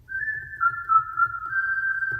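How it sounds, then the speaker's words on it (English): A whistle voice on an electronic organ's top keyboard sustains one clear, pure note for about two seconds with slight wavering pitch, alone and close, over a faint low hum. "the whistle, which is going to be on the top keyboard"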